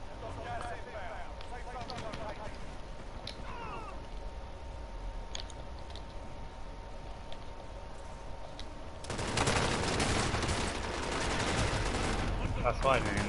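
Rapid bursts of gunfire from a PS4 shooter game, a steady rattle through the first part that swells into a louder, denser barrage near the end.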